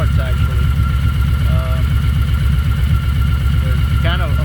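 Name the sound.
Kawasaki Voyager motorcycle engine idling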